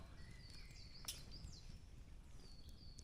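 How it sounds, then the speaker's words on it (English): Several birds chirp and whistle in short, bright calls in woodland over a low rumbling outdoor background, with one sharper call standing out. "As you can hear, we've got the bird song as well."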